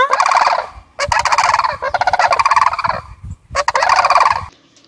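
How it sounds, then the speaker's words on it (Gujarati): A sarus crane calls loudly and close by in four long, harsh, trumpeting bursts separated by brief pauses, with no other sound. "સારસનો અવાજ સાંભળજો"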